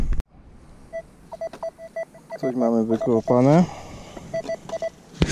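Short electronic metal detector beeps repeat at a steady pitch, pausing while someone speaks briefly in Polish, then resuming in quick bursts.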